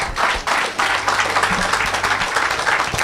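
A church congregation claps and cheers in a dense, continuous burst of applause, close and loud throughout, with crowd voices mixed in.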